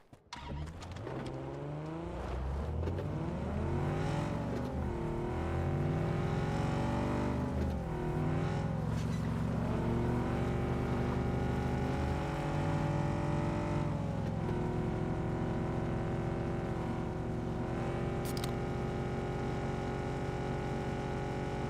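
A vehicle engine drones steadily while driving in PUBG, its pitch rising and falling with gear shifts and acceleration, loud and continuous throughout with no talk.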